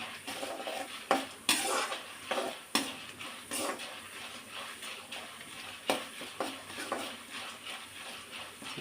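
Chana dal fries in a pan under repeated stirring, with a spoon scraping and knocking against the metal in irregular bursts over a soft, low sizzle, close and fairly quiet.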